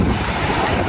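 Strong seaside wind roars steadily past the microphone with surf rushing underneath, a loud, unbroken blustery wash with no voices.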